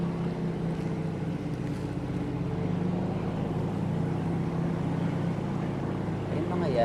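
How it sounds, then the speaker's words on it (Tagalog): Steady droning engine of a bangka service boat moving past mangroves hums continuously at close range, with wind and water noise over it and no break throughout. "ito yung service nilang bangka"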